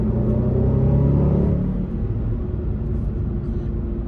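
A Range Rover Sport SVR pulls away hard, its engine a loud, deep rumble that swells for the first second and a half and then settles into a steady lower drone as the gears change smoothly.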